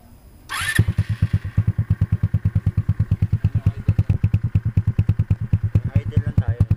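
A Rapid 150 motorcycle fitted with an LA Modified full-system exhaust with resonator starts up, then settles into a loud, close, steady idle with an even, rapid thumping exhaust pulse.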